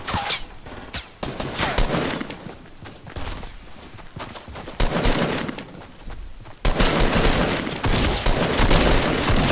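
Bursts of rapid gunfire in a video game crackle in repeated volleys, sharp and close, with a louder run of shots near the end and no talking over them.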